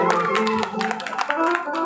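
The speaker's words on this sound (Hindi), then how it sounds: "ताली बजा के" Rhythmic clapping from an audience at a live devotional music program, keeping a steady beat under prominent singing and harmonium-like tones.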